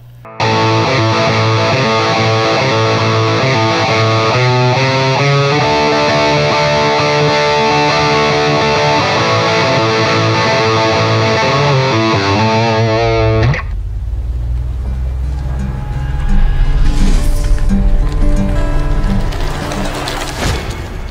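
A Paul Reed Smith Custom 24 08 electric guitar with a flame maple top plays through effects in single coil mode, first loud sustained chords and notes, then a sudden shift to a darker, washy effected texture.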